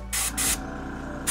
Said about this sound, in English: I could do an air spray